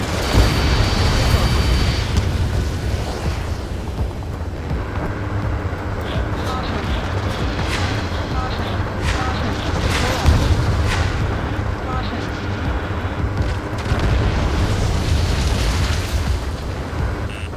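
Missiles explode during aerial combat in Ace Combat 7, flown in an F-18 Hornet: dense, continuous low rumbling broken by heavy booms, with voices speaking over the din.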